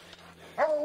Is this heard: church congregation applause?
no